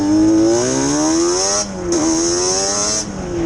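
A 4mill 397cc Banshee engine revs hard and close, its strong rising and falling engine note holding steadily, with a short dip in the middle before it climbs again.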